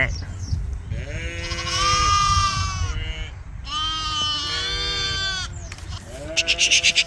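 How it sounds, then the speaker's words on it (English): Sheep bleat loudly and repeatedly up close, long wavering cries overlapping one another, with a quick pulsing bleat at the end. "These sheep are so noisy."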